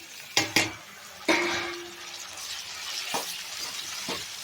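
Tomatoes added to hot oil in a pan for an aubergine curry give a few sharp sizzling bursts as they land, then a steady soft hiss of frying with faint stirring, close by and with no voices.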